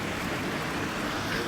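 A downpour of heavy rain over a housing subdivision roars steadily and evenly, close and unbroken throughout.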